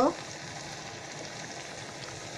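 Yellow moong dal chakli frying in hot oil give off a soft, even bubbling sizzle, a steady low crackle with a brief louder onset at the start.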